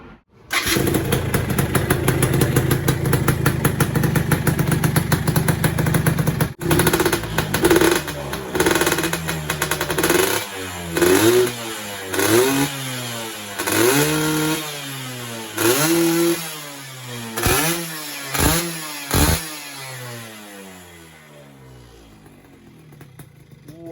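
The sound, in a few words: motorcycle engine running with FJP aftermarket exhaust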